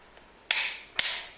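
Final tightening of the stretch-type head bolts on a Toyota 3T-GTE engine, turned a further 90 degrees; two sharp, loud creaking snaps, each trailing into a brief grinding hiss, close up and with no voices.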